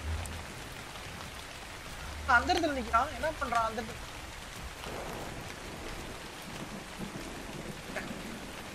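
Rain falls over a desert in ARK: Scorched Earth, a steady soft hiss of drops beneath someone talking in the middle, with low rumbles hinting at thunder.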